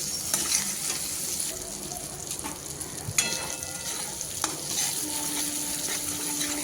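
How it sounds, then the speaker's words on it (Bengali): Spice paste with chopped tomato, salt and turmeric sautéing in a pan for a fish curry, a steady close sizzle with scattered stirring scrapes and clinks throughout, no talking. "মশলা খুব ভালো করে কষিয়ে নিতে হবে"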